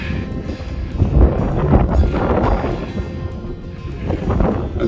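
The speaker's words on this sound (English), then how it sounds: "It's a bit windy and cold in the wind" Strong wind on a mountain summit buffets the microphone in loud, rumbling gusts that swell and ease, with no voices.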